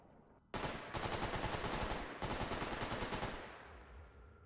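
Rapid automatic gunfire in the video game Stalker Gamma, two long loud bursts separated by a brief break, trailing off into a fading echo.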